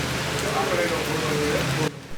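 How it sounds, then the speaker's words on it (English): Sudden rain downpour on a Harlem street in Manhattan, a dense, steady hiss of falling water with faint tones underneath, cutting off abruptly near the end. "Amid a sudden downpour"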